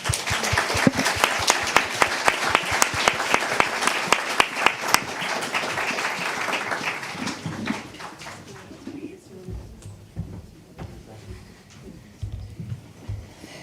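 A conference audience applauds in a dense, steady burst of clapping that fades after about eight seconds, leaving quieter room sounds and faint murmurs.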